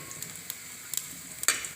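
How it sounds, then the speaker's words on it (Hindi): Cumin sizzles lightly in hot ghee in a pan with scattered crackles and a couple of sharper pops near the end, fairly quiet, no talking. "ये हम ज़ीरा डालेंगे, ज़ीरे को थोड़ा सा चलाएंगे"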